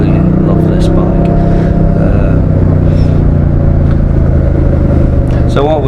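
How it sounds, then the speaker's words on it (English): Moto Guzzi V100 S motorcycle riding through traffic on a road test near Denbigh, a loud continuous engine drone with wind rush, someone talking over it. "This is the S model of the V100. I absolutely love this bike."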